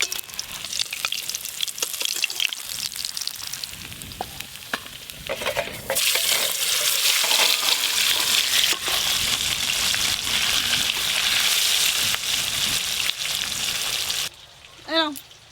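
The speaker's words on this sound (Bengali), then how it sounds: "খুব ভালো করে মাছ ভাজা হয়ে গেছে এইগুলোই।" Pieces of silver carp sizzle and crackle steadily in hot oil with occasional stirring. The frying grows louder midway and then drops off near the end, and a brief voice cuts in at the close.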